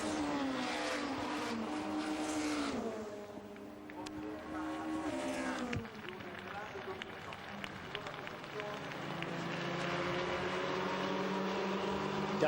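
Honda touring cars race at Monza in the 2001 European Super Touring Championship, engines roaring and shifting pitch as they pass at speed, with a commentator talking over the continuous engine noise.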